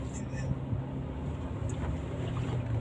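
Truck engine idling along at walking speed around 750 rpm, a low steady hum and rumble, fairly quiet and continuous beneath a faint airy background.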